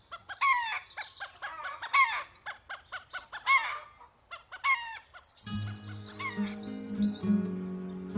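Rooster chickens squabbling at a fence on a farm, with rapid clucks, squawks and a crow-like call in short bursts, followed by louder, harsher overlapping cackling near the microphone.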